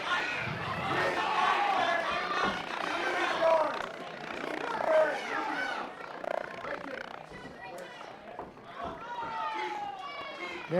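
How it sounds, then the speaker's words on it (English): Crowd at a fight between Jay Sandvig and Paul Hunoff shouting and cheering to urge a fighter on, a dense wash of overlapping voices and yells that swells and eases over several seconds. "The crowd imploring Jay to get going here."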